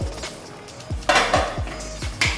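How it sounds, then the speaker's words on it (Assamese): Metal pot and lid clanking as a cooking pot is covered while Assamese omita khar, a papaya and vegetable dish, simmers in water; several sharp, close knocks and clinks in quick succession with no talk. "এয়া আমি ঢাকনি মাৰি থৈ দিম।"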